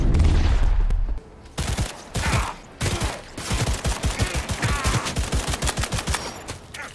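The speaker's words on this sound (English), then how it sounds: "Oh, these are homing bullets." Gunfire with homing bullets in the Cyberpunk 2077 video game, rapid bursts of automatic shots, loud and close, in quick rhythmic volleys that come in waves with brief pauses between them.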